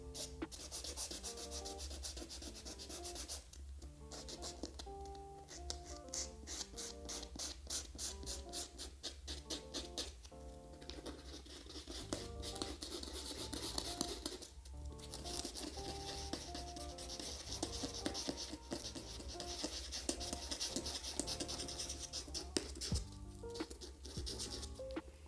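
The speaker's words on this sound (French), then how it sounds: "vous pliez le papier ponce et vous venez faire des petits mouvements délicatement" Folded sandpaper is rubbed by hand over sneakers in small, gentle strokes along the grooves, a soft continuous scratchy rasp under background music.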